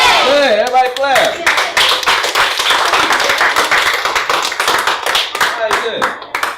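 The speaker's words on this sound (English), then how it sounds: "Everybody clap." A classroom group claps hands together in a burst of many sharp, overlapping claps that run steadily for several seconds, with voices talking briefly at the start.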